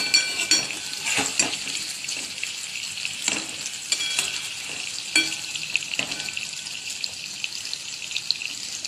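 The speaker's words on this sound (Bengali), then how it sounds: "কুমড়োগুলো আলাদা করে নিয়ে আর আলুটা আর একটু ভাজবো" Potatoes and pumpkin pieces fry in a pan with a loud, continuous sizzle, broken by frequent clinks and scrapes of stirring against the pan.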